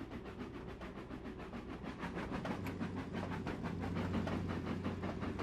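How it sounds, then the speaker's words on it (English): A diesel locomotive engine in Trainz Railroad Simulator 19 hums steadily with a low rumble and rhythmic clatter of the train, at a moderate distance and fairly faint, heard alone without talk. "we can hear the diesel"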